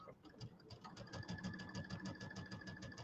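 A home sewing machine stitches steadily while piecing a Kimberbell Cutie table topper, giving a close, even run of rapid mechanical clatter with a faint voice underneath.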